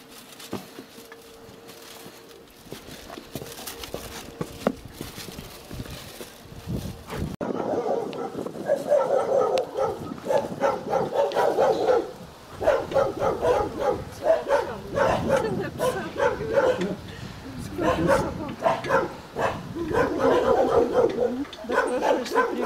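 A dog barks and yips repeatedly outside a church in a rural Altai Krai village, the calls coming in irregular bursts at moderate distance, with people talking nearby and faint patter in the background.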